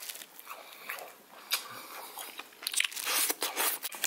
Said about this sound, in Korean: 오징어 딱 씹는 순간, 탱글탱글.